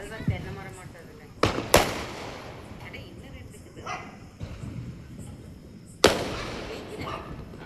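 Firecrackers bursting during Diwali celebrations outdoors: a few sharp, loud bangs spaced a few seconds apart, with people talking in between and a faint dog bark.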